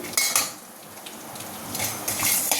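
Coriander seeds and spices are dry-roasted in a pan, with a metal spoon or spatula clinking and scraping against it in a few sharp bursts amid quiet stretches, close by, with no talking.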